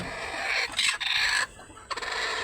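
Chickens, with young chicks being raised, clucking and calling close by in short bursts over a constant background hiss, with no talking.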